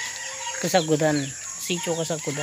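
Chickens cluck and crow in short, close, repeated bursts on a village farm in Sitio Kasagudan, with someone speaking at the start and insects buzzing faintly underneath.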